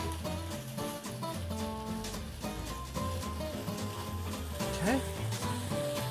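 Leafy greens sizzle and fry as they wilt in a hot pan, a soft steady crackle that sits beneath someone talking the whole time.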